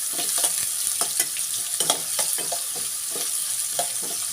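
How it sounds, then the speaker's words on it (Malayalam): Small-chopped onions fry in a pan for egg noodles, a close, continuous sizzle broken by repeated scraping stirs at an irregular pace, with no talking. "ഇത് കുറച്ച് നമുക്ക് ഫ്രൈ ചെയ്യാവേ."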